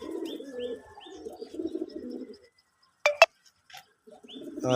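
Domestic pigeons on a farm coo in soft, repeated low murmurs, close by, with a brief sharper call midway and quiet gaps between phrases.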